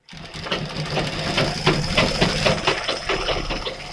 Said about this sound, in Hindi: हमने पूरी सिलाई लगाई, इस प्रकार से हमने सिलाई लगाई।